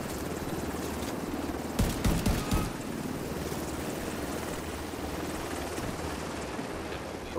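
Helicopter in an online shooter video game, a steady rotor rumble with a burst of loud thumping or gunfire in the middle, no talk.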